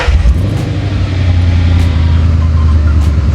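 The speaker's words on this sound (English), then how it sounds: "Let's go ahead and start the car" A Ford Mustang with long tube headers runs with a loud, steady low engine rumble throughout, slight rev fluctuation near the start and no talking.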